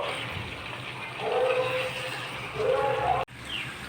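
Mutton with tomatoes, coriander powder and spices sautéing in a pan for kachi mutton curry gives a steady, close sizzling hiss, swelling briefly twice before a short break near the end.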